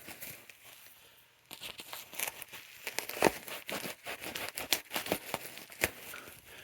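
Dry crinkling and crackling of a thin, papery, paper-filled pet litter pad being handled, irregular bursts of rustle at close range, quiet at first then busier.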